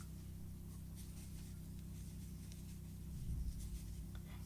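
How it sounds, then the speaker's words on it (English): A room heater runs on a cold day as a faint, steady low hum, with a brief soft rustle near the end. "If you can hear this noise that sounds like this, it's actually my heating."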